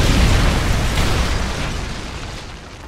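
A Predator missile strike from the Call of Duty MW3 video game lands as a loud, close blast whose broad roar slowly fades away over a few seconds, with no talk.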